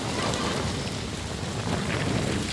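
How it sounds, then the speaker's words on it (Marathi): First rain of the season falling steadily on the ground and mango trees, a dense continuous hiss of drops heard up close without talk. "हे बघा वाढला बरं का आता पाऊस"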